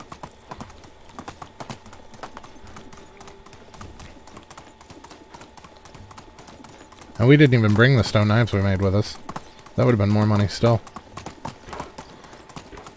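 Horse hooves clatter at a gallop in the medieval survival game Medieval Dynasty, a steady clip-clop running under ongoing talk, with two short louder bursts of other sound cutting in near the end.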